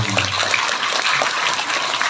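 An audience claps at a religious lecture, giving steady, dense applause throughout that sounds rather like rushing water.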